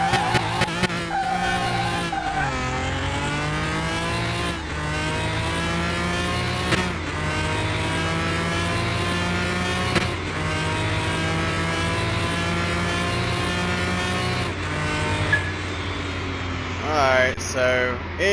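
A 1,000-horsepower Lamborghini with a 7-speed gearbox and no slicks roars down a half-mile run in Car Mechanic Simulator 2021. The engine climbs loudly through repeated gear shifts, and tires squeal near the end.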